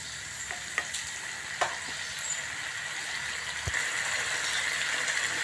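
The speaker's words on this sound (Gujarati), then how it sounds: "મસાલો સરસ મજાના શેકાય છે" Spiced masala for a Hyderabadi-style paneer vegetable gravy roasts in a pan with a continuous, close sizzle, broken by a few light clinks of stirring.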